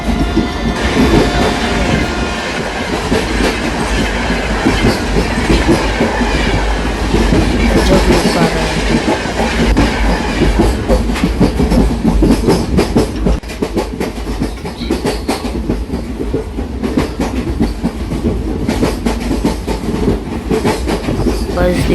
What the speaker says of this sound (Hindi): बस उधर से ट्रेन आ रही है, आपको मैं दिखाता हूँ।